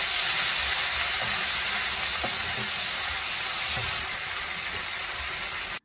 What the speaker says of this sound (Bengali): আর পেঁয়াজ দিয়ে এখন আমি পেঁয়াজটাকেও কষিয়ে নিব।